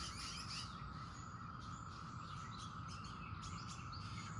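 Cicadas drone steadily from surrounding trees, a dense continuous buzzing wash at moderate distance with a few bird chirps on top.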